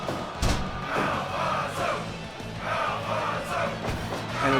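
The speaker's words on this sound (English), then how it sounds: "And the Japanese crowd getting behind Alphonso" Japanese wrestling crowd cheering and roaring in a large arena, sustained loud crowd noise with swelling surges and a few sharp thumps from ring action.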